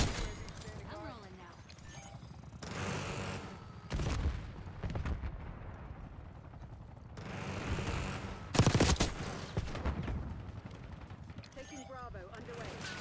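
Gunfire in the Black Ops 6 shooter game: bursts of rapid shots and sharp blasts come and go over about thirteen seconds, with players talking in between.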